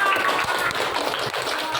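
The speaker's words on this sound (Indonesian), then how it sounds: "Oke, tepuk tangan." Group of students clapping hands in a classroom cooking activity, a dense, steady patter of many hands lasting a couple of seconds, fairly close and even in loudness.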